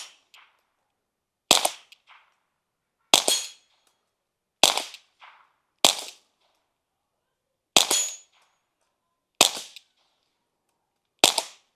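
Eight sharp, quiet pops from a suppressed .22 pistol, fired one at a time at irregular intervals of about one to two seconds with silence between them.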